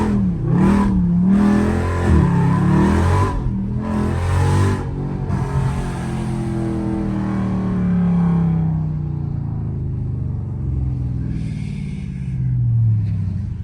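A loud Dodge Charger Scat Pack revs and accelerates on a rainy day, heard from inside the car, with the engine note rising and falling continuously, wavering through gear changes and settling into a steady drone.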